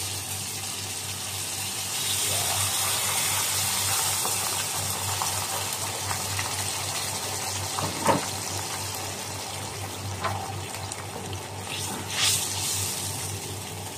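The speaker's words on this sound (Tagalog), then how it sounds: "Lagyan natin siya ng tubig." Water poured into a pan of cooked tomato, onion and garlic to make broth, a continuous running and splashing stream with a few small clinks, steady and moderately close, with no talk.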